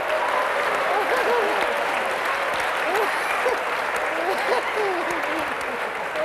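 A comedy club audience breaks into sustained applause with laughter after a joke, a dense, even roar of clapping and crowd noise with scattered voices and whoops mixed in.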